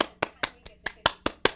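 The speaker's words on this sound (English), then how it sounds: "Clap it up." Seven sharp hand claps in a steady rhythm, close and fairly loud, with no talk between them during a live stock-trading stream.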